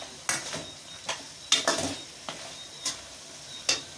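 Beef korma with lemon juice is stir-fried in a pan, heard as a few spaced, sharp spoon scrapes against the pan over a soft sizzle.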